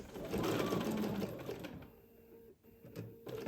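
A sewing machine stitches quilting lines through a king size quilt, its rapid motor hum steady at first and then fading and stopping briefly before starting again, up close.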